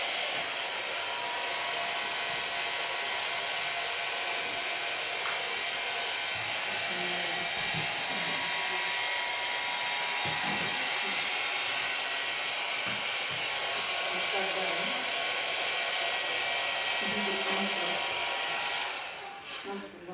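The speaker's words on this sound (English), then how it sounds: "So far blow drying." A hair dryer blows hair dry in a salon after a perm, a steady loud whooshing hum running nearly the whole time before cutting off at the end.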